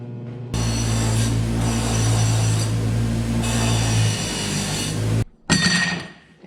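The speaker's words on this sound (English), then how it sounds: "I'm going to give it a little wire wheel on a bench grinder" A wire wheel spinning on a bench grinder, scrubbing rust off steel stock for a folding knife, gives a loud steady grinding whine for about five seconds, then a short burst of contact after a brief pause.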